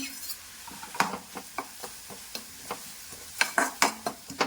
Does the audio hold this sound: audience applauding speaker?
no